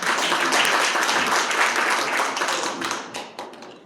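Audience at a church leadership inauguration ceremony claps in steady, full applause that thins and fades toward the end, with no talk over it.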